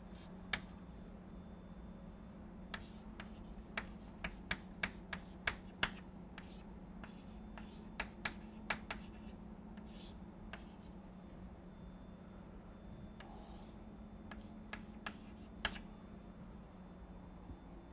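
Chalk or marker tapping and scratching on a board, in sharp irregular ticks and short strokes over a steady low hum, quiet and close.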